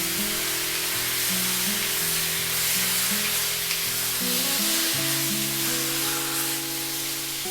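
Pork belly pan-frying in a dry wok without oil gives a loud, dense, continuous sizzle with a steady background hum throughout, close by and with no voices.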